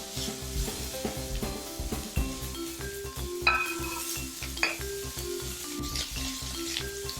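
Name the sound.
grass-fed ground beef browning in a pan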